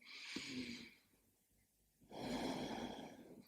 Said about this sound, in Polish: Kilka swobodnych oddechów.